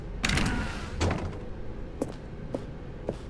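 A door opens in the video game The Stanley Parable, heard as a few short, dull thunks and knocks spread across the moment after a softer rushing start. No one talks.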